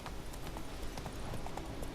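Steady clip-clop of hooves from the horse Roach in The Witcher 3, a brisk, even gallop rhythm heard up close and fairly loud, with no talking over it.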